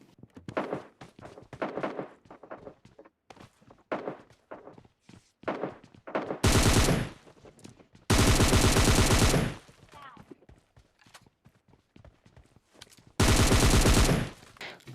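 Loud bursts of automatic gunfire from a nearby fight in PUBG Mobile Lite, with three long sustained volleys after a run of sharp scattered shots and thuds.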